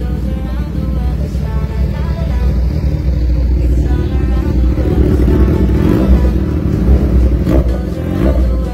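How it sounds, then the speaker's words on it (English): A 2023 Kawasaki Z1000 Sugomi motorcycle idles and revs, a deep loud engine rumble that swells midway and holds, close and continuous with no talking over it. "Engine on."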